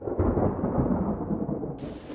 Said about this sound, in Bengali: শুনতে পাচ্ছ না কত জোরে বিদ্যুৎ চমকাচ্ছে?